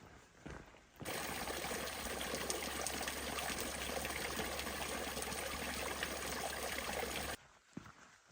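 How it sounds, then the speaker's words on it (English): A small mountain spring near Mt. Laguna in San Diego trickles and flows steadily in early October, a continuous close water sound that stops abruptly near the end. "there's a little spring back about 500 yards, and it's still flowing"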